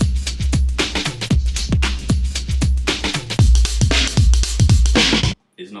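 An original drum breakbeat plays loud and steady, kicks, snares and bright cymbals in a busy funk pattern that cuts off abruptly near the end.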